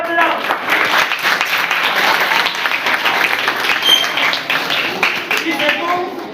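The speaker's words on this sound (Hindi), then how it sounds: "जोरदार तालियां बजाओ।" Loud, sustained applause from a large crowd, many hands clapping steadily throughout with a few voices mixed in, at a school farewell ceremony for staff members.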